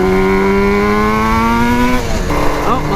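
A Yamaha RD350 cafe racer two-stroke motorcycle is being ridden, its engine revving up loud and close with rising pitch, then dropping sharply as it shifts gear before climbing again.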